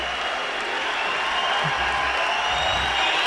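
A crowd at a jiu-jitsu event erupts after a gi match between Gabriel Lucas and Ricardo Evangelista, producing loud, continuous applause and cheering that fills the space without a break.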